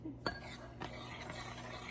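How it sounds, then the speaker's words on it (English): A spoon stirs batter for a Pennsylvania Dutch funny cake in a mixing bowl, making a few soft scraping clinks against the bowl, faint and close, with a brief sharper knock near the start. "Just stir it up."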